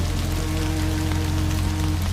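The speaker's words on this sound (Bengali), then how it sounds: "বাইরে হালকা বৃষ্টি পড়ছে" Light evening rain falls outside in a dense, steady patter on surfaces, with a low constant hum beneath.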